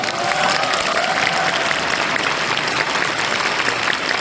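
Audience applause at a political talk show fills the whole stretch, a steady, dense wash of clapping from a large crowd without pause.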